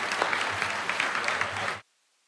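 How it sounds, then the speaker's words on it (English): At a Florida Bar convention awards ceremony, an audience gives a burst of dense applause for a humanitarian award recipient, close and full for under two seconds before it cuts off abruptly. "Please join me in giving a big round of applause for Bill Galvano, the recipient of the 2023"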